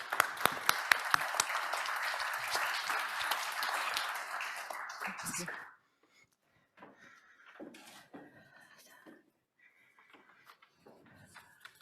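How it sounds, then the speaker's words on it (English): A conference audience applauds with dense, close clapping for about six seconds, then it stops abruptly, leaving faint shuffles and scattered room noises. "Please give her a round of applause."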